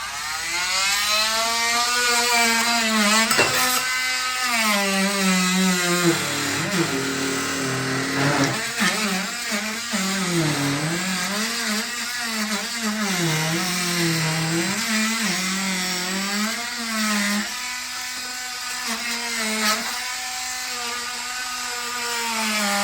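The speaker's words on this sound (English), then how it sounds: "Here's the other Diablo scraper. I put the bigger one on, so we're gonna see if this thing works." Battery-powered Diablo mower deck scraper running loud and close for a long stretch, a whining motor whose pitch keeps dipping and rising as it bites into the deck, with brief surges and no talk.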